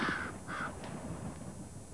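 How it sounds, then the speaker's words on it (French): Crows in a foraging flock give a couple of short, harsh caws early on, fairly close, over a steady outdoor background with no talking. "Le langage des corneilles est particulièrement développé."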